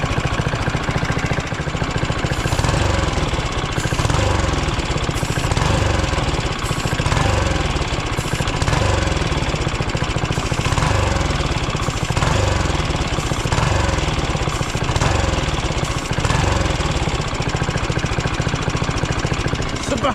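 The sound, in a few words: car engine revving after ether sprayed into turbo intake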